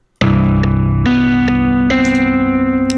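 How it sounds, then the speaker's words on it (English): Electric guitar played through a clean amp plugin in FL Studio that already distorts, three sustained chords struck one after another, loud and gritty with a wavering, chorus-like shimmer and a ringing decay. "even though that's a clean amp, it's already distorted"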